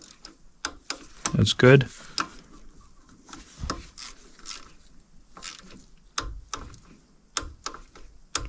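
A torque wrench clicks while bolts are tightened during an EGR valve replacement on a Mercedes Sprinter, giving sharp, scattered ticks amid quiet rubbing and handling noise, with a brief spoken remark.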